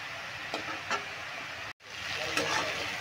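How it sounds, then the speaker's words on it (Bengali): Arum stems and small mourola fish stirred and frying in a pan, with a steady sizzle and occasional spoon scrapes, and a brief cut partway through. "এবার এইভাবে নাড়তে নাড়তে একটু রান্না করে নেবো 5 মিনিট মতো"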